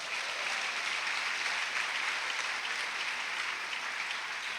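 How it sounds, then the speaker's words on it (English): A room of eighth-grade graduates and guests applauds at a school graduation ceremony, a steady, even wash of many hands clapping at moderate distance without letting up. "Give them a round of applause"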